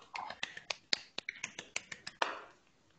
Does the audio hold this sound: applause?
yes